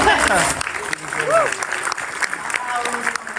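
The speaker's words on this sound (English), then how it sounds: "Give yourselves a round of applause." A convention panel crowd breaks into applause, with scattered whoops and chatter running through the clapping, which tapers off toward the end.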